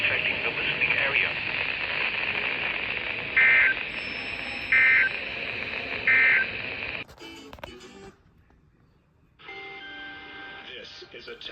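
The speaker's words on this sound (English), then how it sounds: "This is a test of the emergency alert system." An Emergency Alert System test plays over a radio broadcast, with a spoken announcement and three short repeated beeps, then a brief dropout before the signal resumes.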